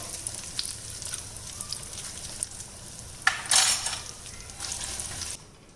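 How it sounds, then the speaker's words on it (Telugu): Spices for a popu tempering sizzle and crackle in a pan over a low flame for a Dasara festival offering. The frying hiss is steady and close, with a sharper spurt midway before it drops off abruptly. "పోపు బాగా వేగింది, స్టవ్ ఆఫ్ చేసేస్తున్నాను."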